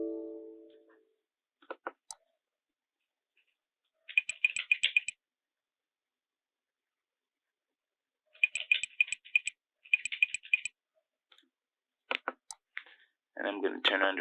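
Keys tapped on a computer keyboard while an IP address is entered, heard as quick clicking bursts in short runs separated by silence, with a brief voice at the start and a burst of speech near the end.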